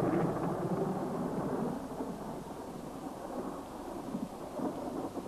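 Thunderstorm rumbling over a tropical Micronesian island as the first raindrops fall, a steady, dense low roar of thunder and rain with no voices.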